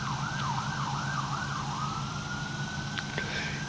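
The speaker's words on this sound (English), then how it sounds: "if the camera's picking up the sirens, I apologize" Emergency vehicle siren wailing steadily in a rising and falling pattern near a cemetery outside a town in Catoosa County, Georgia, fairly distant over a low rumble of road traffic, with no talking.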